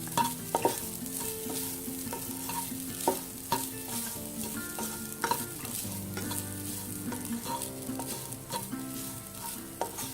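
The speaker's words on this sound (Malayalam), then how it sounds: "അതേ പാനിലേക്ക് തന്നെ നമ്മൾ എടുത്തു വെച്ച തേങ്ങ ഒന്ന് ചൂടാവട്ടെ." Grated coconut heating in a pan while being stirred, with soft repeated scrapes and clicks of a spoon over a faint sizzle, close and fairly quiet, no voices.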